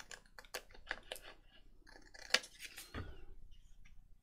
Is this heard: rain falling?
no